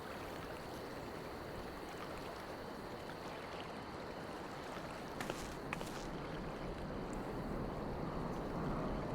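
Ocean waves in Final Fantasy XIV: Stormblood wash in a soft, steady hiss at low volume, with a few faint clicks partway through and no voices.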